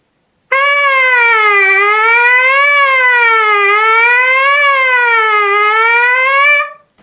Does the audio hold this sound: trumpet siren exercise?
yes